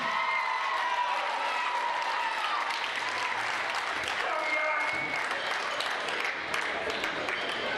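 Wrestling crowd applauding steadily at an Australian Wrestling Federation event in Cardiff, a dense sustained wash of clapping with some crowd noise and a voice faintly audible beneath.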